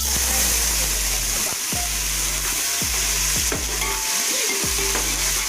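Onions frying in hot oil for fish biryani, a loud, dense sizzle with a hum underneath and several quick stirring scrapes close by.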